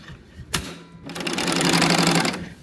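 A sewing machine stitches a quarter-inch seam in dress fabric: a short burst of needle clatter, a brief pause, then a loud, steady run of rapid stitching that stops abruptly.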